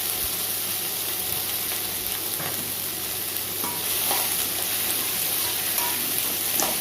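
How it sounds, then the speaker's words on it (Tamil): Tomato and potato frying with vegetables in a pan for bamboo rice biryani: an even, close hiss of sizzling oil with occasional soft stirring clinks, steady and unbroken for the whole stretch, no talking. "இப்போ நம்ம கட் பண்ணி வச்சுருக்க உருளைக்கிழங்கையும் இதில் சேர்த்துக்கலாம்."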